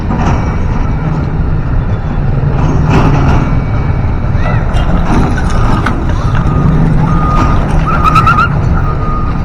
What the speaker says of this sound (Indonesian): ini langsung disodok sama bulldozer dan langsung diangkat ke truk guys